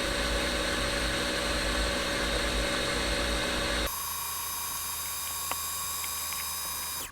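An electric mixer at its highest setting whips cream into butter, a steady loud whirring drone that drops abruptly to a quieter hum partway through, with a brief click near the end and no talking.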